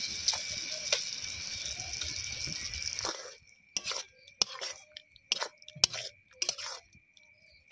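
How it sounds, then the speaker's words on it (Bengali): Boiled eggs are dropped one at a time into frying masala for an egg curry, giving a soft sizzle that stops abruptly, followed by a few faint clicks and taps, all quiet and close. "এবার একটা একটা করে ডিম মশলার মধ্যে দিয়ে দেবো।"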